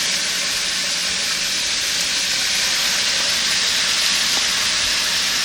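Beef for a mushroom-gravy stew searing in a hot pan, giving a steady, loud broadband sizzle with hissing steam that holds evenly throughout, with no talking.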